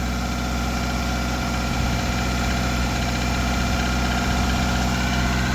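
A Toyota Camry engine, freshly swapped, idles steadily at about 2,000 RPM in a fairly fast, even rumble, close and continuous with no voices.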